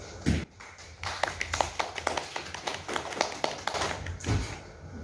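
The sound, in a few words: sparse applause from an audience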